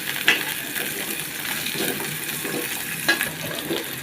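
Chopped onion and garlic fry in oil in a pan, a soft steady sizzle with a couple of brief clinks from stirring, close and moderately quiet.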